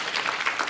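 An audience at a panel discussion on global impact gives a brief burst of steady, dense clapping, heard alone without talking.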